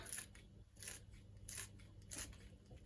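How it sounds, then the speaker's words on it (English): Kitchen scissors snip through fresh chives, four quiet, crisp cuts spaced about half a second apart, close up and faint with no talking. "with the same kitchen scissors, I'm just going to chop some of those in there."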